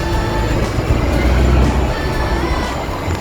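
Subway train rumbling through Pioneer Village station in Toronto, a loud, continuous low roar of rail cars and wheels with faint metallic ringing, steady throughout with no talk.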